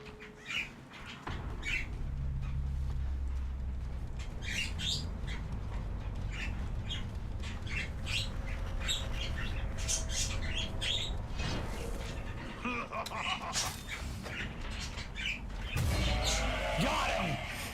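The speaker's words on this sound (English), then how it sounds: "Seagull Steve is bothering me!" A seagull in the Dead by Daylight video game squawks repeatedly in scattered, sharp calls over a steady rumbling game ambience, with a voice talking at moments, fairly faint and mid-distance.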